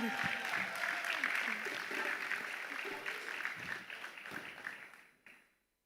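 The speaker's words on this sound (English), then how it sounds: "A round of applause for him" At an Afri-Caribbean investment summit closing ceremony, a crowd gives dense, loud applause to welcome a performer, mixed with voices, then tapers and cuts off near the end.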